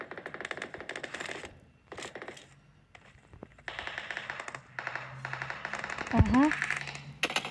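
Bursts of automatic gunfire from a PUBG Mobile shootout rattle in rapid clusters with short gaps, fairly close, while a voice talks over parts of it and a sharp impact sound rises near the end.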